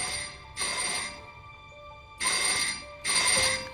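A telephone rings in three separate bursts with short pauses between them, a bright electronic trill heard clearly and fairly close with no voices over it.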